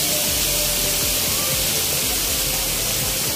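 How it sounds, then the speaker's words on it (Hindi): Artificial waterfall fountain in Jaydev Vatika park, Bhubaneswar, giving a steady, broad rushing hiss of falling water with a low rumble underneath, continuous and fairly close, with no voices. "ये पाखे साउंड आप शुणी पारे देखो तो पानी रो जो साउंड आसती"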